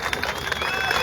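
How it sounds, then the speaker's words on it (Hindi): Crowd applause and cheering for someone speaker at a public gathering in Uttarakhand, a dense, loud, continuous burst of clapping throughout the short moment. "जोरदार तालियां इन बहन के लिए।"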